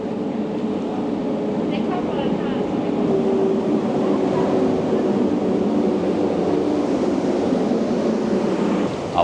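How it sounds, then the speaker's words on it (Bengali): A train pulling into a station on the Stockholm to Copenhagen fast-train route, a steady broad rumble with faint squealing tones, close and continuous under nearby chatter. "ট্রেন আসছে, ট্রেন ঢুকছে"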